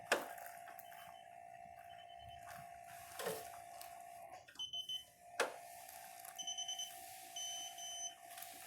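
A faint electronic torque screwdriver whirs in short bursts while tightening to 20 inch-pounds, followed by a series of quick high beeps, then a steady repeating tone, close and quiet.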